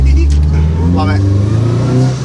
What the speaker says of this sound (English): One of my favourite noises of Welded Diff.